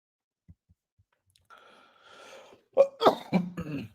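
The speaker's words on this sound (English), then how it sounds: "Just pardon me for my coughing." A person coughs during an online data science masterclass, a quick burst of several close, harsh coughs after faint clicks and a brief murmur, loud against an otherwise silent background.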